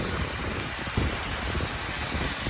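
Light drizzle comes down during an April snowfall, a steady soft wash of rain-like patter with faint irregular drops, unbroken and fairly close throughout, with no voices.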